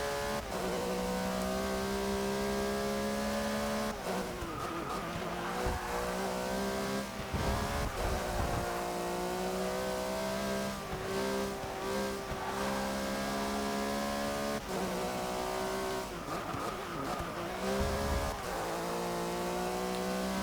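Porsche 911 GT3-RSR race car engine in Forza 6, loud and continuous with high revving held through long pulls, sharp drops at gear shifts and braking, and brief tire scrubbing between bursts, with no talk.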